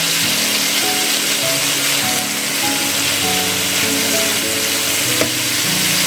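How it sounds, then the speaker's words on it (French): Chunks of beef for pot-au-feu sear in a hot pan, browning on both sides, giving a loud, steady, close sizzle and frying hiss with a faint underlying hum and no speech. "Vous saisissez bien des deux côtés, la viande doit être bien dorée"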